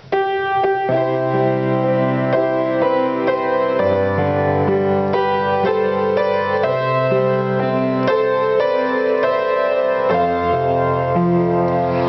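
A piano melody moving in two voices a third apart, steady and clear, with sustained notes ringing over a soft bass accompaniment.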